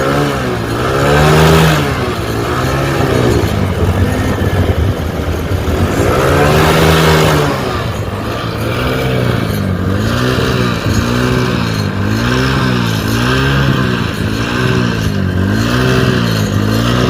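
A motorcycle engine at a village mechanic's being revved with the accelerator during a starting-problem repair, loud, close and in repeated rising-and-falling surges over a steady idle.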